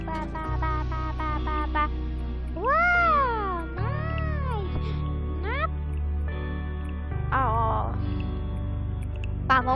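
Cat meows in the video game Roblox Doors ring out as a run of bright, close, rising and falling calls over a steady game music bed, repeating several times across the stretch.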